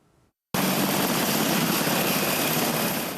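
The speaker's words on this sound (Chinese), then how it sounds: "阿马吉直升机紧急的降落，普罗佩拉带来风压" An Apache military helicopter comes in for an emergency landing during a Han Kuang military exercise in Taiwan. Its rotor and engine roar starts abruptly after a brief silence and holds as a loud, steady, close wash of noise.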